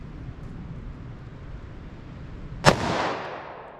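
A single sharp .45 ACP gunshot from a Liberty Overwatch suppressed short-barrel firearm cracks out near the end, a loud crisp report with a brief decaying tail over steady outdoor background noise.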